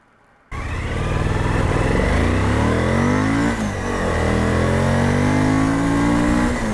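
A motorcycle launches hard, lifting its front wheel: the engine bursts to life abruptly and climbs in a loud, close rising rev, dips briefly, then pulls up again in a strong sustained wail.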